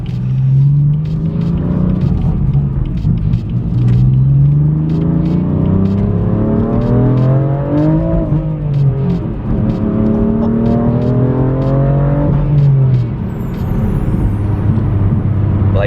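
A Lamborghini Aventador engine rumbles loudly from the cabin while driving, rising and falling through several revving sweeps over a constant low roar.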